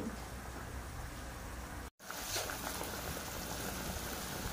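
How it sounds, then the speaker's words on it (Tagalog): A steady broadband hiss and bubbling of pork soup boiling in a pot, continuous and fairly close, with a brief cut of silence partway through. "Kumukulo na siya."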